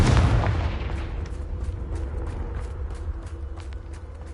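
A Confringo fire spell blast in Hogwarts Legacy, a loud booming explosion at the start that decays into a rumbling tail with faint rhythmic mechanical ticks.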